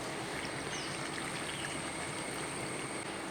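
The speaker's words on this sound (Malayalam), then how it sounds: "ഇനി നമുക്ക് ഇത് വേകാനുള്ള വെള്ളം കൂടെ ഒഴിച്ചു കൊടുക്കാം" Water for cooking poured into a pot of curry makes a soft, steady, unbroken rushing trickle that stays quiet throughout with no other sounds.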